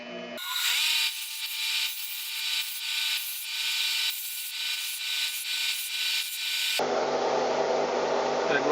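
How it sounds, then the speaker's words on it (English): A power tool grinds and smooths the edges of a small cut aluminum blank for a homemade camera tripod shoe. It runs as a loud, steady, sustained whine with slight wavering, then shifts to a rougher, lower rasp near the end. "smoothed off the edges just a little bit"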